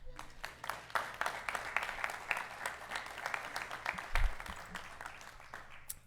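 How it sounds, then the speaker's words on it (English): Attendees at a Macon-Bibb County Commission meeting clap after a proclamation: scattered, fairly sparse applause in a meeting room with distinct individual claps, rising briefly and then thinning out, with a low thump partway through. "You can clap."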